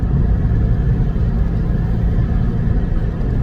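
A Volkswagen Golf MK5 2.0 TDI diesel rumbles steadily from inside the cabin while driving, a constant low engine and road drone with no voices.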